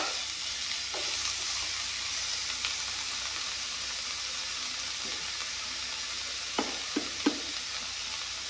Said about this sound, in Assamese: নিমখ আৰু ৰংগুড়াখিনি একেলগে দি অলপমান ভাজি ল'ম।